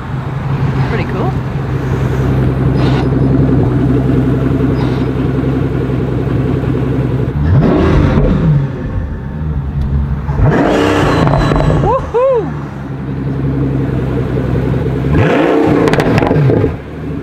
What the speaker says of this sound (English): it's a really deep kind of thunderous pop, isn't it?